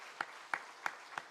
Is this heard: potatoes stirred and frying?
no